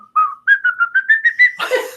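A person whistling a short sailor-like tune, a series of clear rising notes in quick rhythm, followed by a burst of breathy laughter or voice at the end.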